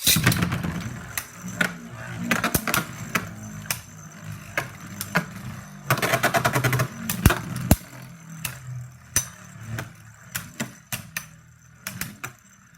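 Two Beyblade-style spinning tops battle in endurance mode, giving rapid metallic clicks, rattles and hard knocks from colliding tops, loud and close, in irregular bursts that thin out toward the end.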